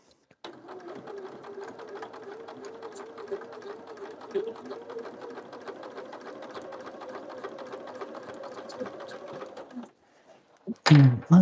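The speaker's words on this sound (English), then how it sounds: "think I'm just going to sew and then figure out what I need after that" A sewing machine stitching fabric scraps for a stained-glass-style project runs in a fast, even, close mechanical rhythm for several seconds, then stops, followed by a couple of loud knocks and handling noises.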